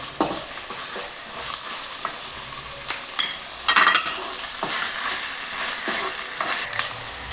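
Ginger-garlic paste and capsicum fry in a pan with a continuous hiss. Intermittent stirring scrapes and taps sound throughout, with one louder clattering stir midway. No one talks.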